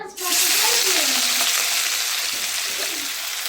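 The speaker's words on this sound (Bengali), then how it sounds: "সঙ্গে তার সঙ্গে পেঁয়াজ বাটাটাও দিয়ে দিই" Onion paste hitting hot oil in a pan while cooking prawn malai curry, with a loud burst of sizzling that starts suddenly and then settles into a steady frying hiss.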